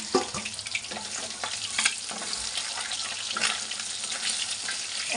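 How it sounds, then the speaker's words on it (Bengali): Pomfret fish frying in oil in a pan, giving a steady, close, bright sizzle with crackling pops throughout and a few louder spatters, with no talking. "এইগুলো ভাজা হয়ে গেছে। এই যে সুন্দর লাল লাল করে ভাজা হয়ে গেছে।"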